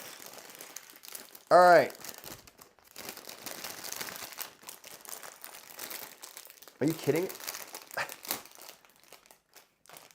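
Crinkly plastic bags of Lego pieces, stuck together as if melted, are pulled open in two loud crackling bursts, with a person talking over and between them.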